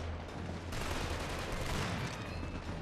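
Rapid automatic fire from the ISA assault rifle in the Killzone 2 shooter game, a sustained rattling burst over a dense wash of battle noise, fairly quiet overall and steady for a few seconds.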